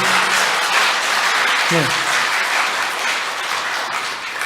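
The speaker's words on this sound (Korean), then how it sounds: "저희 박수 한번 쳐볼까요?" An audience applauds together in a Korean church gathering, a dense, even burst of clapping that continues for several seconds, with a short voice heard near the start.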